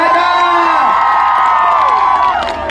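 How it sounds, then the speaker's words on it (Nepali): A crowd at a lively public gathering cheers loudly, with whoops and shouts rising over a dense roar for a few seconds. "एकचोटि यो संस्थाको लागि एकचोटि जोरदार ताली त बज्नुपर्छ।"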